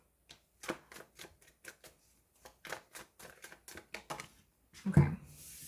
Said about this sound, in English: Cards are shuffling a little weird.